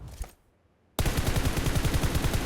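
A short quiet pause broken by a sudden burst of loud, rapid automatic gunfire in PUBG Mobile, shots rattling evenly and close until the end.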